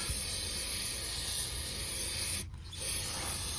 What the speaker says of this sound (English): Baptize that thing in brake parts cleaner.